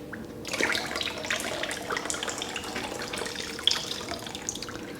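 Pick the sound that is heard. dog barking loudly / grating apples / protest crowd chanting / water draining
water draining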